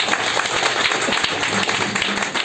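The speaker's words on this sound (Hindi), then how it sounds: "एक बार ताली बजा लीजिए अपने लिए" A gathered audience at a performance event breaks into sustained applause, dense and fairly loud hand clapping filling the whole stretch without pause.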